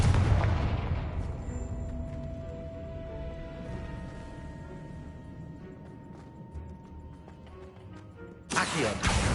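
Confringo fire spell blasts from the Hogwarts Legacy video game: a dense, loud barrage of booming, crackling explosions that slowly fade, then a sharp new burst near the end.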